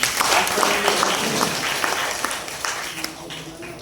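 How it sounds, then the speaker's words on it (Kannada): An audience at a health testimonial session applauds in a brief, dense burst of clapping that gradually fades, with a voice speaking over it. "ಜ್ವರ ಚಪ್ಪಾಳೆ ಕೊಡಿ."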